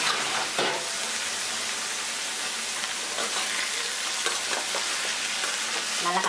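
Sliced brinjal frying and being stirred in a pan for a dried fish curry, a steady close sizzle with scraping stir strokes throughout.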